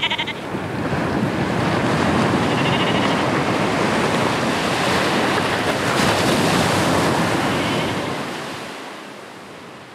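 Sea surf roars in a continuous broadband wash of breaking waves, loud and close with some wind noise on the microphone, slowly fading toward the end with no voices.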